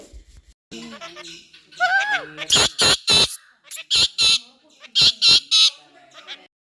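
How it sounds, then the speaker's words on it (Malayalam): A parrot chatters nearby in squawky, voice-like bursts, a string of short sharp calls in quick groups with brief gaps between. "ആ തത്തമ്മ നല്ലപോലെ സംസാരിക്കുന്നുണ്ട്"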